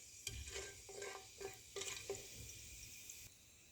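Whole black cardamom, black pepper and cinnamon fry in a pan with a faint sizzle, broken by several short scraping stirs and soft clinks, quiet and close with no voices.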